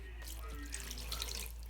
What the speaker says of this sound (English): I'm going to put in 4 cups of warm water.